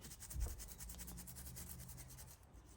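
Bristles of a toothbrush scrub a Champion C5 spark plug coated in solvent degreaser, a soft, close, continuous back-and-forth rubbing with rapid strokes and no speech.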